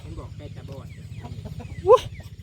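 Chickens cluck and a rooster gives a short call near the end, in a windy, noisy outdoor setting. A steady low rumble and some talk run underneath.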